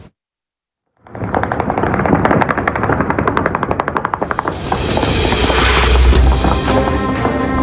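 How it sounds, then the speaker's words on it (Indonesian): Celebratory gunfire fired into the air across Beirut, Lebanon: rapid bursts crackle loudly after a moment of silence, rattling in quick volleys before blending into a sustained roaring din. "Tembakan terdengar di seluruh Beirut, Lebanon."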